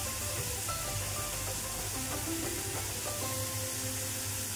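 Onion and tomato sauté in a pan with salt as upma is made, giving a steady, close, moderately loud sizzle throughout with faint scraping tones and no talking.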